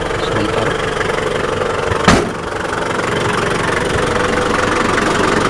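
A 2003 Daihatsu Rocky 4x4 diesel engine idles steadily at close range, its low, even clatter holding throughout apart from one brief sharp thump partway through.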